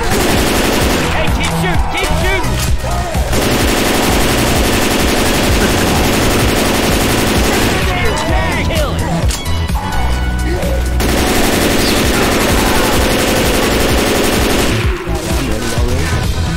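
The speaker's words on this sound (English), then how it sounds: "keep shooting!" Sustained automatic gunfire from the Left 4 Dead 2 video game, loud and continuous, with dense rapid bursts swelling in several waves over a steady roar of game sound.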